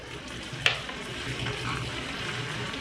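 Finely chopped tomatoes and dry powdered spices such as black pepper go into a sizzling pan of ginger and garlic for a Kerala-style prawn curry, giving a steady low fry with one sharp clatter early on.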